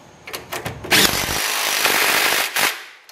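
Power tool tightening lower control arm bolts on a turbocharged Honda Accord, a short burst followed by a sustained close, loud whir of about a second and a half, then a brief final pulse.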